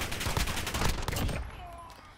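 Gunfire in the video game Modern Warfare, a rapid loud burst of shots for about a second and a half, then fading into quieter game ambience.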